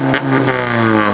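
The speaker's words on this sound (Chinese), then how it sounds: "这次阿杰就换上了新的排气管的声音，所以声浪才比较大声一点啊" Honda Civic FD2 from 2012 with a K24A engine and a new aftermarket exhaust revs hard, a loud, close, steady engine roar with strong harmonic tones held throughout, no talking.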